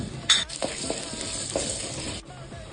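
Chana dal, urad dal and black peppercorns fry in sesame oil for chow chow chutney, a close crackling sizzle broken by a few sharp clanks and scrapes of a spoon stirring the pan.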